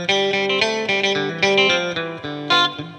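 Guitar picking the tune Wildwood Flower, a steady run of plucked melody notes over bass notes, loud and close with no voices.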